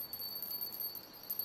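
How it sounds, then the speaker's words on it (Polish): A small bite-alarm bell on a fishing rod in the game Russian Fishing 4, set at a lake, jingling faintly and continuously for a moment with no talk. "Ten dzwoneczek mi się bardzo podoba."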